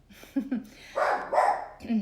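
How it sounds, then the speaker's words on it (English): A dog barks and yelps a few times in short bursts, interspersed with a person speaking nearby. "I have a dog who right now is barking."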